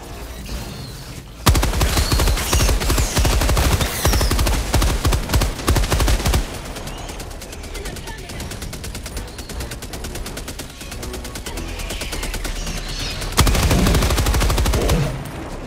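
Rapid automatic gunfire from a sentry gun turret in the video game Helldivers 2 rattles in loud sustained bursts, pausing briefly before resuming, with no talk over it.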